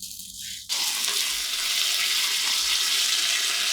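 Hot water pours steadily from a kettle into a vessel for boiling Maggi noodles after a brief clatter, a continuous splashing gush that stays loud and close.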